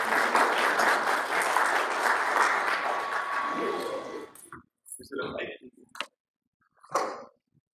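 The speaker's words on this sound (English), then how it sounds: "Please give him a huge round of applause." A large literature-festival audience applauds as a speaker arrives on stage, dense clapping filling the first four seconds before breaking off, followed by a few brief bursts of talk.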